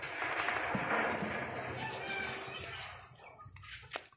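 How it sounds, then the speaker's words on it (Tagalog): Rural backyard chickens clucking, with a rooster crowing amid the flock, close and lively, with a brief flutter of wings near the end. "Ayan yung mga manok, o."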